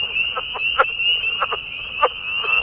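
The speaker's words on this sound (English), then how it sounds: "Its unique croaking pattern is what gave it away." A leopard frog calls in a series of short, rasping croak pulses, grouped in irregular bursts over a steady high insect-like drone, fairly close and clear with no talking.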